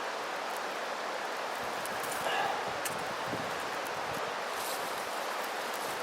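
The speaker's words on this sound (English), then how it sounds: "Sometimes that breeze can really help you out." Outdoor breeze blowing steadily during natural-tinder fire-making with a ferro rod, a soft broadband rush with faint rustling, swelling briefly midway and otherwise constant and gentle throughout.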